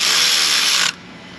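Ratchet wrench clicking rapidly and steadily as a bolt is run down on a Nissan Frontier 3.3 4x4 engine, a loud, close, continuous ratcheting that stops abruptly near the end.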